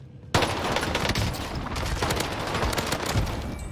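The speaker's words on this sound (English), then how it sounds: "Airstrike! Target's marked! This is Phoenix 3. Strike inbound." Video game airstrike lands as a sudden loud burst of rapid explosive gunfire-like blasts, then continues as a dense, sustained barrage of crackling impacts and rumbling booms for several seconds.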